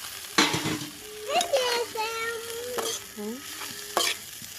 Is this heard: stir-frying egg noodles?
yes